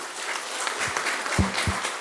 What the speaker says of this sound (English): a genuine clap to all of those people